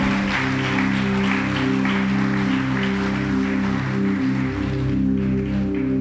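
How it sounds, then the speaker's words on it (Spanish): A church congregation applauds loudly and steadily, with continuous dense clapping over sustained organ or keyboard chords. "Denle un aplauso fuerte al Señor."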